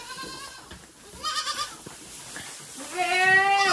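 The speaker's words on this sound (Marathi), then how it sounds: "घाटावरती शेळ्या बोलतात" Goats bleat near a riverside ghat on a farm, with two or three short wavering calls separated by quiet pauses, the last one the loudest.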